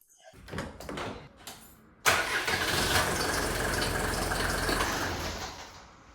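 A Mercedes 190D diesel engine cranks and catches after about two seconds, then settles into a loud, steady idle close by.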